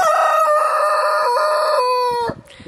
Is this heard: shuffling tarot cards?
no